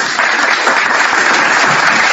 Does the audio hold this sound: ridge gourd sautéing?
no